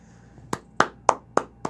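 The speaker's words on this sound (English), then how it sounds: "Round of applause." Scattered hand claps in an MLB The Show 18 baseball game, five sharp claps in an uneven rhythm, close and fairly quiet, with no voices over them.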